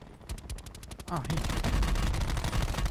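Rapid automatic gunfire from Call of Duty: Black Ops 4, dense and rhythmic, building into a sustained loud burst, with a player's voice briefly heard over it.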